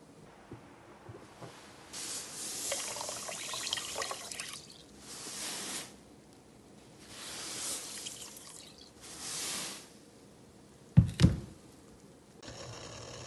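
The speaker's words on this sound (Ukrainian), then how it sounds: "Ось так я викладаю через подвійне сито все, що я сварила" A boiled apple mixture for jelly is poured through a double sieve, giving faint drips and soft splashing trickles in several bursts with quiet pauses between them, then a brief louder clatter near the end.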